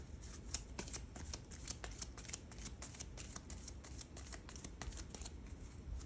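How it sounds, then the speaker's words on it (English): Eldritch Horror board game card decks being shuffled close by, a steady run of crisp riffling flutters and soft snaps with no talking. "shuffle the disaster and devastation decks"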